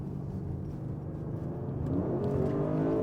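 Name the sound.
sports car exhaust revving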